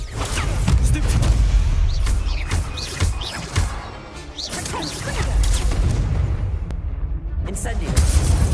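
Stupefy spell casting in the Hogwarts Legacy video game, a sharp magical blast with whooshing impacts repeating among dense combat effects, layered over a shouted spell incantation and continuous game noise.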